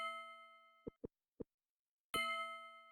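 Bell-like chimes from the video game Petscop mark a character writing: a sustained ringing tone fades, three short soft plinks follow with silence between, then a bright bell strikes and rings out, quiet and clean.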